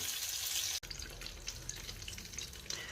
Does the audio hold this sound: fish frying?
yes